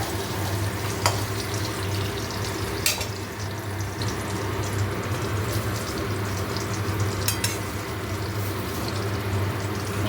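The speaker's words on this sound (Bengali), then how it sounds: "এবারে কুমড়ো ভাজাটা একটু উল্টে দিই।" Pumpkin slices fry in a pan with a steady, close sizzle of hot oil, broken by a few brief sharp clinks or scrapes as the pieces are turned.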